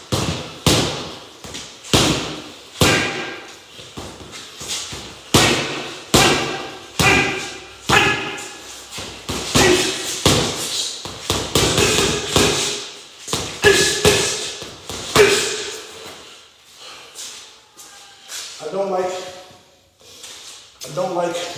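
Boxing gloves thumping a bag in a steady series of punches, dull close thuds at a regular pace with a few quicker flurries, and a voice talking between them.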